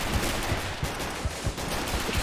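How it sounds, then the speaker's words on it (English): Friendly mortar fire in the WWII strategy game Men of War: Assault Squad, a series of dull, booming low thuds repeating at a steady pace over a constant battle din, fairly loud and continuous throughout. "Oh, that's friendly mortars firing."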